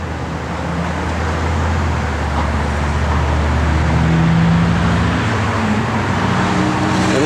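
A 1957 Chevrolet Bel Air drives along with a steady, close engine drone and low rumble, tire and road noise holding evenly throughout without pause.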